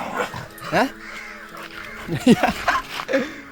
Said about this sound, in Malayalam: അങ്ങ് ആകാശത്തിലേക്ക് കൂടി ഒരു കാക്ക എങ്ങാൻ പോയി